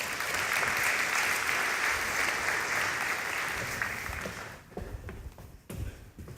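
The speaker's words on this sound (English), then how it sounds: "Let's give her a round of applause." An audience at a corporate partner event applauds loudly and steadily for several seconds. The clapping thins to scattered claps near the end.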